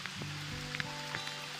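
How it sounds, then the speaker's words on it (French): Rain falls steadily on a wet stretch of the Camino de Santiago footpath, a soft continuous patter with a few individual drops tapping close by, no voices heard. "c'est comme ça ressemble à ça sous la pluie."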